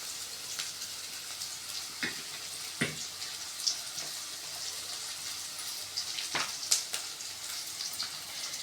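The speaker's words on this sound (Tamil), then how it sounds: "அந்த வெங்காயம் கலர் மாறுற வரைக்கும் நல்லா வதக்கிக்கலாம்." Onions for chow chow kootu sauté in a pan with a steady hiss of frying, broken by occasional scraping taps of a spoon as they are stirred until they change colour.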